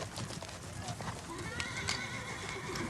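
RCMP Musical Ride horses, mares and geldings, heard faintly with scattered hoof clip-clops and a thin whinny amid a busy outdoor background.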